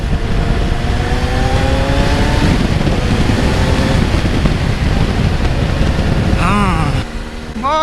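A Kawasaki Z900 superbike is ridden in the rain, its engine note climbing and shifting under loud, constant wind roar, then dropping away near the end.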